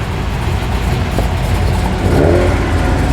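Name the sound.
Holden Monaro car engine revving, arriving at car show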